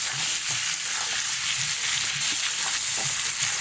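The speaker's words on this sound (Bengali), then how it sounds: "এর মধ্যেই আমি আলু আলুর মধ্যেই সব মশলা দিয়ে কষবো" Potatoes and onion frying with spices in a pan, a dense, steady sizzle close by with light scraping as they are stirred and no speech.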